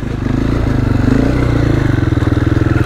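A motorcycle engine runs loud and close, revving steadily with a throbbing low rumble and some clatter, with no talking over it.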